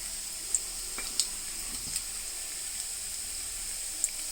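Seasoning spices and dry red chillies fry in hot oil with a steady, hissing sizzle, a few sharp pops and crackles scattered through it.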